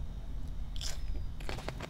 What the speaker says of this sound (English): A really nice crunch though, despite having the thin walls.